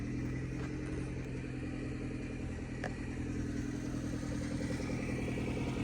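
A truck engine idles steadily from start to finish, giving a constant low rumble with no change in pace.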